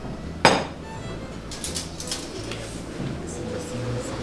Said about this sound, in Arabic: وادي الخليط ده بقى نقعد نقلبه كده كويس